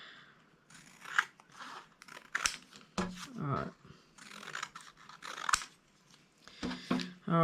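Scissors snip through the cardboard of a tissue box in a series of close, crisp crunching cuts, some in quick runs and others spaced out, with papery crinkling between them.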